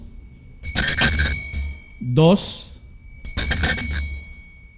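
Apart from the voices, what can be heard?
hand bell being rung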